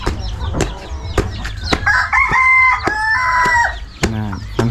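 A rooster crows loudly and clearly up close, with a few clucks and sharp clicks or taps around it.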